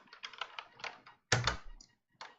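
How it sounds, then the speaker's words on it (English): Keys on a computer keyboard are pressed during a session of old DOS games: a run of soft taps, then one louder clack of two keys struck together, then a final tap. "I just tried pressing 2 keys at once there."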